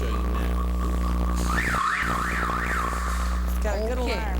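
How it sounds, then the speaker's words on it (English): A Suburban's car alarm blaring up close, a steady loud tone giving way to rising-and-falling warbling siren cycles, then rapid chirping sweeps, over a constant low hum. "Has a good alarm. Theft proof."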